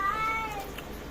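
A house cat meows once, close by. The drawn-out, wavering cry fades over about half a second against a quiet room background.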